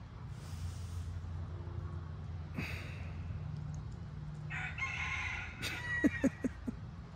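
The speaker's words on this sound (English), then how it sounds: "these roosters" Roosters crow loudly at close range, several drawn-out calls following one another, with a few short clucks and a sharp bang near the end over steady outdoor background noise.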